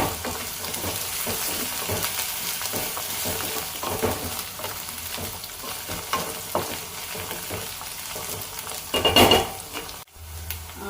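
Ivy gourd frying in a pan as pounded green chili paste is stirred through, a steady sizzle broken by repeated scraping and spatula knocks, with a louder clatter near the end before an abrupt cut.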